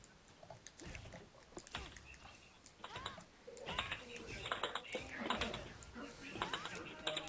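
Rapid keyboard typing clicks in an uneven rhythm sit under ongoing talk and game sounds during a Street Fighter IV lobby session, the keystrokes fairly faint and mixed with other noise.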